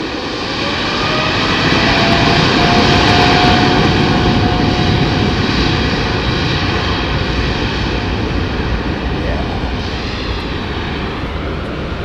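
Aircraft jet engines spooling up, a loud sustained roar with a slowly rising whine holding for about twelve seconds, without speech.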